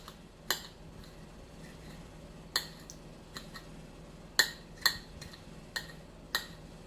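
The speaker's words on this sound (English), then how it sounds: "use my knife on my plate instead of on the chopping board" A knife chops a tomato directly on a plate, giving about seven sharp, sparse clicking taps against the ceramic at uneven intervals, close and clear over a quiet room.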